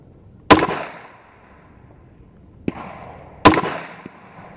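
A Kel-Tec PMR 30 pistol firing Winchester Super X .22 Magnum rounds outdoors, two sharp loud shots with ringing decay plus a couple of fainter cracks between them, spaced a few seconds apart.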